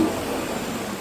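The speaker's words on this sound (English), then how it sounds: "you can hear even now how much more pronounced the fan is" A Mercedes C36 AMG's engine cooling fan whirrs steadily on a cold engine, with a low engine hum beneath, constant and moderately loud throughout.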